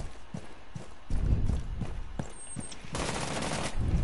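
Gunfire in Rainbow Six Siege: a string of sharp, regular shots with a clattering, mechanical rhythm, dense and fairly loud, rising into a harsher burst of noise near the end, with no voices.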